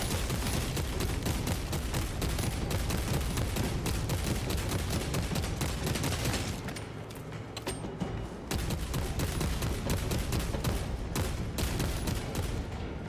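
Sustained rapid gunfire from a gun in the video game Warhammer 40,000 Space Marine 2, loud and close, dense bursts running almost continuously with a brief lull midway.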